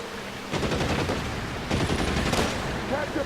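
Gunfire in the video game L.A. Noire comes in sustained bursts of rapid shots with a loud, dense crackle, pausing briefly before resuming.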